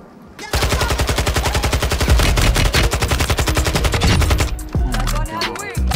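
Kastov 545 rifle firing full-auto in Call of Duty Warzone, a loud, rapid, sustained burst of close gunshots that stops near the end, followed by a few softer clicks.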